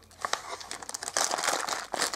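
A yellow plastic mailer package from an AliExpress order crinkles and rustles as it is handled and opened up close, a continuous crackle with sharper pops.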